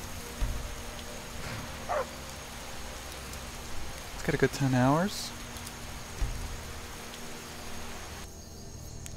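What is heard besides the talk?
rain falling in the video game Skyrim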